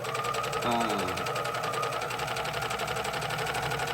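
An old serger sewing machine runs steadily up close while edging fabric for a cross-over apron, making a fast, even mechanical whir with a rapid clatter.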